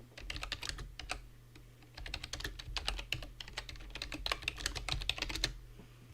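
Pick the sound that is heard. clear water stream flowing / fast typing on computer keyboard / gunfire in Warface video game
fast typing on computer keyboard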